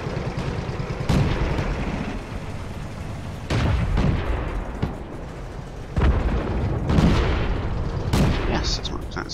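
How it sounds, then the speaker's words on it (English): Artillery shells burst in a tank video game, several heavy booms at irregular intervals, each a sharp loud impact with a rumbling tail, over a steady background of game noise. "the artillery's going to miss, and it's going to hit me instead"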